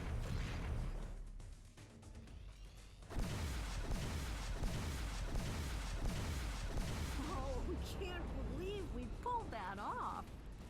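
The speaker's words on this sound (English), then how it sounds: "Oh, this cannon here is so good." Cannon fire from the space combat game X Rebirth: heavy booming shots with whooshes, followed by rapid repeated bursts and warbling electronic weapon tones, under a voice chat with several people talking.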